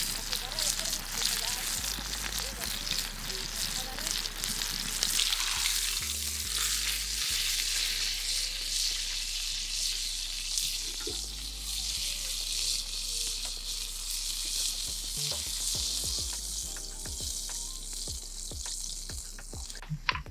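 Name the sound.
steaks frying in hot oil in a pan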